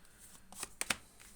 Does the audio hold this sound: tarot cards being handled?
yes